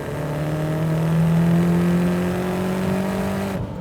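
First-generation Mazdaspeed 3 on its stock turbo, running a little extra boost, accelerating hard: a loud, steady engine note rising in pitch as it pulls through the revs, alone without talk, cutting off abruptly near the end.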